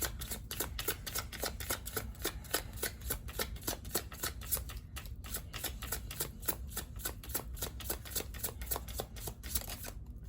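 Tarot cards shuffled by hand in a steady run of quick riffling flicks, close and moderately quiet, continuing alone throughout with no talking.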